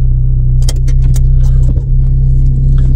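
A car with a faulty automatic gearbox pulls away, heard from inside the cabin. A loud, steady low engine drone dominates, with a few light clicks and rattles over it.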